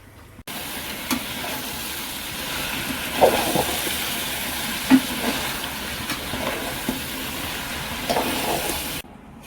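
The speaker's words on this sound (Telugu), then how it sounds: "చికెన్ ఇప్పుడు మంచిగా ఫ్రై అయ్యిందండి" Chicken frying in a pan for a home-style Sunday chicken biryani, giving a steady broadband sizzle with a few soft stirring scrapes and clinks, close and moderately loud, with no talking.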